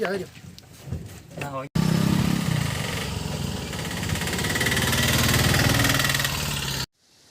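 An auto rickshaw engine idles with a steady, close, rumbling drone that runs for several seconds, then cuts off abruptly; voices talk briefly just before it starts.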